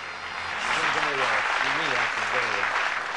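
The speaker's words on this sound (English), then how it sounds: "Give them a nice warm round of applause" A game show studio audience in the darts quiz Bullseye gives warm applause, building to a full, steady wash of clapping while a voice talks over it.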